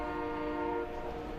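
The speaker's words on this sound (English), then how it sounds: "I'm sure you can hear in the background and perhaps the rumbling of the train headed somewhere." A train horn sounds steadily in the background through the whole stretch, a sustained multi-tone blast over low rumble, near a college baseball game between Central Arkansas and LSU.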